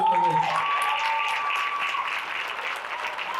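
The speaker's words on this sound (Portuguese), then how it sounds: "Nós estávamos de palmas" Audience applause, a steady wash of clapping from many hands that fades slightly toward the end.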